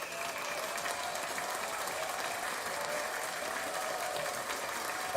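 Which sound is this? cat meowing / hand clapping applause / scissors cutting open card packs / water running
hand clapping applause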